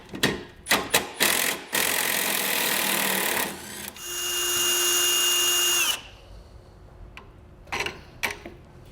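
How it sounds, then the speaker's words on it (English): A drill runs in short bursts and then a longer steady whir as aluminum rivets are drilled out with a 1/4-inch bit, with clicks and handling knocks between the runs. "drill bit and drill out these aluminum rivets"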